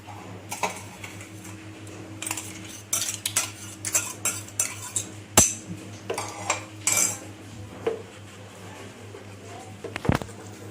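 A metal spoon clinks and scrapes against a frying pan while smooth ground homemade pizza sauce is stirred and cooked, with sharp intermittent taps and rattles over a low steady hum from the stove.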